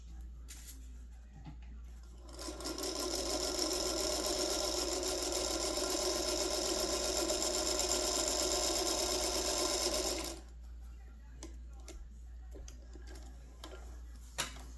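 A Featherweight sewing machine stitches in one continuous run of about eight seconds, a rapid ticking whir that starts and stops cleanly against a quiet room with a faint hum and a few small clicks.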